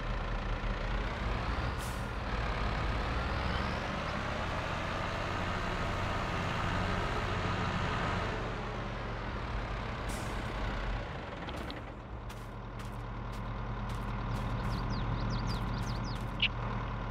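A tractor maneuvering in Farming Simulator 22 in a forest setting, with a steady loud diesel engine drone and rumble, a shift in tone midway, then a series of sharp clicks and short high beeps over the idling engine.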